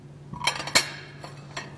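Gilded Art Nouveau porcelain dinner plates from a full service knock together in a few sharp, close clinks, one ringing louder than the rest, with quiet pauses between.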